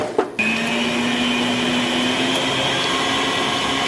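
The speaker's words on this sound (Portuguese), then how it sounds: "Nós vamos começar colocando as claras na batedeira e vamos colocá-la para bater em neve." A stand mixer beating egg whites for a cake topping runs at a loud, steady whir after a brief start-up clatter, with a constant motor hum and no talking.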